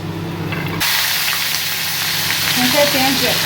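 Peanuts and bay leaves frying in hot oil for a traditional Rajshahi mochar ghonto: a low hum gives way abruptly to a loud, steady, close sizzle with scattered small pops, no talking.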